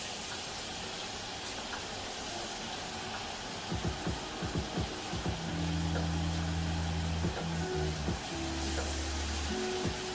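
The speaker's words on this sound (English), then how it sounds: "we are going to actually let the butter brown" Butter browning in a pan with lemon slices and sage, a steady close sizzle and hiss with some clinks partway through, under an ongoing hum.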